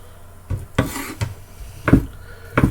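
A knife chopping chicken strips into little chunks on a cutting board, five distinct thuds spaced irregularly, close and clear with no talking.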